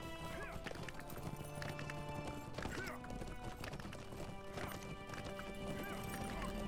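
Horse hooves clip-clopping at a steady trotting rhythm while riding in LOTRO, close and continuous, with a horse whinnying and soft background music.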